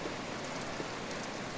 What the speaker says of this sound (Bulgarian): Започна да вали.